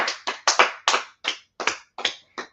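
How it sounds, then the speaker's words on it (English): Nine sharp, separate claps in an even rhythm, close and clear with silence between each, from a gathering at a religious teaching session. "So let's clap it up for class, man."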